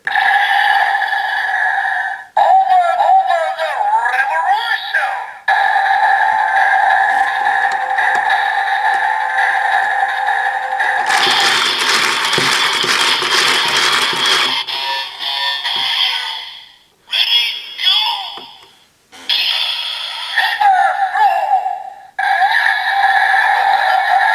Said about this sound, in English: we can activate the secondary mode by pressing the button again and turning the crank